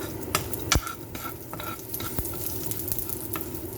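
Tempering spices sizzle steadily in hot oil for a banana flower curry, with a spoon stirring and scraping the pan and a few sharp metallic clinks over the crackle.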